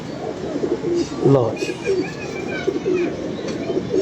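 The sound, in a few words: pigeon cooing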